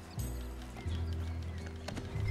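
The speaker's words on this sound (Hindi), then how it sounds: "तो जल्दी से चलते हैं अपने घोड़े के पास, तो धीरे बहुत चलता है।" Horse hooves in Red Dead Redemption 2 clip-clopping at a slow walk, close and steady, over a low rumbling game background with a few brief clanks.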